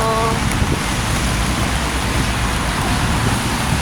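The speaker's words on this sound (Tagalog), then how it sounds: "Ay, grabe ang ulan." Heavy rain pours down in a dense, steady hiss, close and loud throughout, with the drumming of drops on surfaces and a brief tone at the start.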